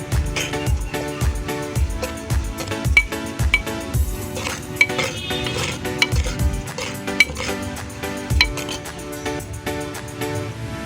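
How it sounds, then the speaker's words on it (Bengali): Spices being stirred in a cooking pot with a metal utensil, giving repeated scraping clinks and knocks against the pot in a steady rhythm, close and fairly loud over background kitchen noise. "ও এটা আবার আরেক রকম সিক্রেট মশলা এসছে, নাড়তে থাকবো"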